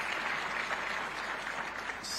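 An audience applauds Zambia Sugar at a private sector job-creation forum, a steady dense wash of clapping from a crowd that holds evenly for about two seconds, with no talk over it.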